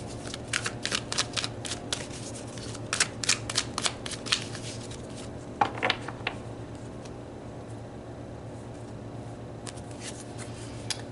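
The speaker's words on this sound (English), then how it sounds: "So let's pull some cards to look at how all of this transitions through this Venus transit." Tarot cards being shuffled by hand up close, a run of quick crisp riffling flicks in bursts, then a pause and a few more scattered card snaps against a faint steady background hum.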